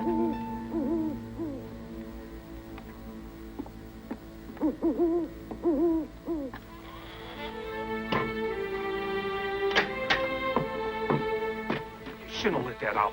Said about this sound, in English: Just an old barn owl.